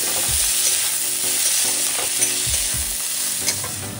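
Whole garlic cloves fry in hot oil in a pan beside onions for a desi chicken kosha, a steady loud sizzle broken by a few stirring scrapes, with no voices.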